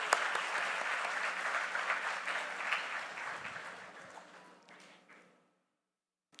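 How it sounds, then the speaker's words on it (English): Audience applause at a Youth 20 India Summit, a thick roar of many hands that holds steady and then gradually fades away to silence, with one faint tap at the very end. "let's give a huge round of applause for all the young people here."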